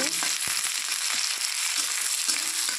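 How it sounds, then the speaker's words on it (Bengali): Chopped onions with a few nigella seeds fry in a pan, a dense, loud, steady sizzle heard up close with faint scraping stirs and small crackles throughout, no voices. "একটু লাল লাল করে নিতে হবে পেঁয়াজটা।"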